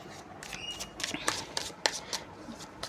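Tarot cards shuffled up close, a series of quick riffling snaps and flutters in short bursts, fairly quiet, with no talk over them.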